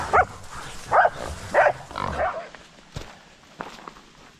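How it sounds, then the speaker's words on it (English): A small wild boar in the hills grunts close by in three or four rhythmic bursts during a hunt with dogs, followed by fainter rustling and a few sharp knocks. "Oh, that's a little boar."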